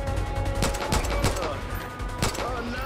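Rapid gunfire in Far Cry 5 as shots are fired at a window pane, a dense burst of loud cracks with sharp transients layered over game noise and chatter.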